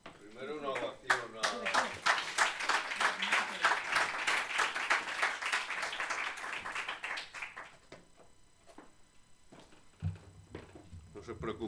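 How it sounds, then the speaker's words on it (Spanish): Conference attendees give a round of applause for the closing speaker, clapping that builds quickly and sounds fairly close, then fades to scattered claps and shuffling, with someone talking briefly afterward. "primero una ovación"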